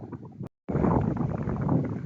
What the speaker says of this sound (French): Le vent souffle vraiment beaucoup aujourd'hui, hein, comparé à hier.